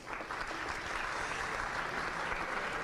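Loud, steady applause from a large audience congratulating a team at a programming contest awards ceremony, many hands clapping together continuously without a break.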